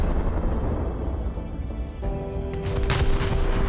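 Two heavy battleship guns on the SMS Nassau fire in War Thunder's naval mode, booming blasts over a dense rumbling din, with a sustained tone entering midway and a sharp report near the end, no talk.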